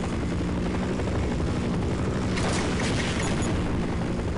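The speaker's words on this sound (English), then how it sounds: "there's the helicopter" A helicopter in the video game Half-Life 1 MMOD flies nearby with a dense, steady rotor roar that swells briefly partway through, loud and continuous with no talking.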